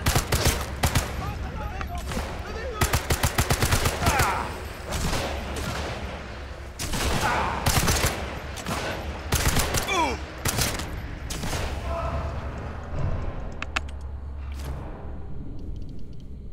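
Machine gun fire in the Sniper Elite 5 video game, loud rapid bursts and scattered shots repeating across the stretch, with a voice talking in between.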